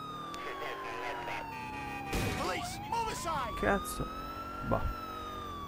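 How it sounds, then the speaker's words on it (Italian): A police car siren wails continuously in the video game GTA 4 as a patrol car drives, its pitch sweeping slowly while someone speaks briefly over it, with some engine and street noise. "Accendiamo le sirene, visto che abbiamo un sospetto."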